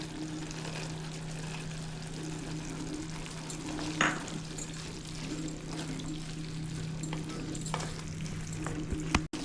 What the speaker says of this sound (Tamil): சுண்டைக்காய் வந்து ஒரு நிமிஷம் இந்த மாதிரி கலரி விடணும்